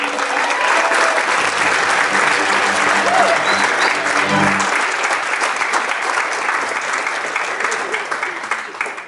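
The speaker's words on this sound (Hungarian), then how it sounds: "Taps." A wedding crowd at a village celebration bursts into sustained, dense applause that fills the space, with a few voices briefly mixed in near the start before the clapping continues alone and slowly thins.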